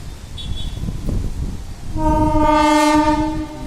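An electric train rumbles nearby near Perambur station and then sounds its horn, a loud, sustained multi-tone blast over the rolling clatter of the carriages.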